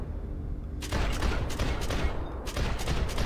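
Gunfire in the video game Max Payne 3, a dense, loud burst of rapid shots that cuts in abruptly and hammers on continuously, with one brief dip before another volley.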